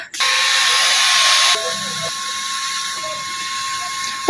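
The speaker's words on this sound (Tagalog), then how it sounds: "Sige, punuin mo ng setting spray ang mukha mo." A setting spray bottle for makeup mists onto a face in a long, steady, close hiss, then softer continued spraying with faint small clicks, no talking.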